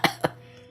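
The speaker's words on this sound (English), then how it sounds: "Cough, cough." A character in the video game Zelda Twilight Princess gives two quick, close coughs in succession, followed by a quiet tail.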